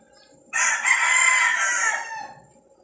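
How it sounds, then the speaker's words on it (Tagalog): A single rooster crows once, a loud, drawn-out call lasting about a second and a half that rises and then trails off, standing alone against quiet background noise. "Ingay ng mga manok."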